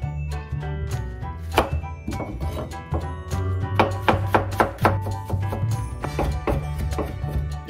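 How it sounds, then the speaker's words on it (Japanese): Green onion being finely minced with a knife on a cutting board, a close series of crisp rhythmic chopping thunks in quick irregular bursts, with a low background hum beneath. "次にネギを、切っていきます。 みじん切りです。"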